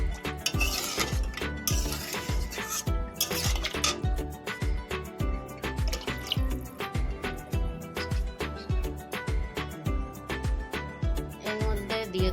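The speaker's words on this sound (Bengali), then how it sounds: "দিয়ে এবার ঢাকা ভালো করে নাড়িয়ে দিয়ে ঢাকা দিয়ে ভালো করে ফুটতে দেবো" A pot of pea omelette curry being stirred with a metal utensil, with rhythmic clinking and scraping against the pot that repeats steadily, close and fairly loud.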